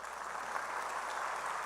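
A congregation claps in a church, a short, even patter of applause heard faintly from a distance.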